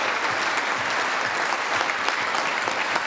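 A large crowd applauds steadily, dense clapping filling the room at a loud, even level throughout.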